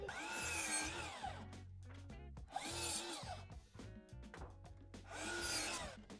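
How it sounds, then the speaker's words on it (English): A power drill whines in three bursts, pre-drilling and driving screws into boards for a wooden patio chair, rising and spinning down each time, with brief knocks and handling sounds between them, close by. "I'm pre-drilling and then putting the screws in prior to attaching them"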